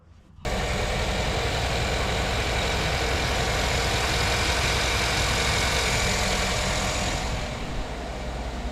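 A Chevrolet Tahoe V8 idles steadily and fairly loud after a serpentine belt, tensioner and idler replacement, catching right at the start and settling into a continuous low rumble with no talking.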